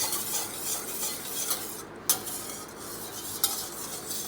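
Whole wheat eggless chocolate cake batter stirred by hand after a quarter cup of odorless oil goes in, giving a steady, close scraping swish with two sharp utensil taps against the bowl; no talking.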